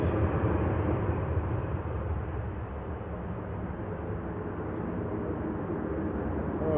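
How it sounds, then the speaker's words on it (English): Ryanair jet departing Manchester Airport, a broad, distant low roar of engine noise that stays steady and fairly faint throughout, with no one talking. "Ryanair departing"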